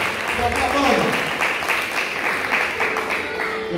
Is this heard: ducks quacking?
no